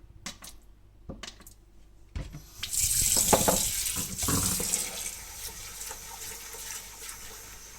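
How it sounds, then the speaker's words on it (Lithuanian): A broccoli floret rinsed under a running kitchen tap: a couple of faint knocks, then a steady, fairly close rush and splash of water that continues to the end without talk. "Nuplaunam brokolio viršūnėlę ir pažiūrėkit,"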